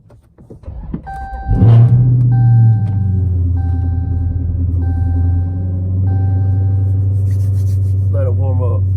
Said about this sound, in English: I'm gonna do a cold start, sitting inside the vehicle